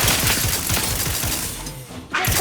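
Sustained rapid gunfire in the video game The Outer Worlds 2, dense overlapping bursts that briefly drop out before resuming loud and close.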